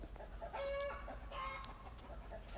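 Backyard chickens cluck and fuss, with short clucks and a few higher squawks at close to middle distance over a steady low background rumble.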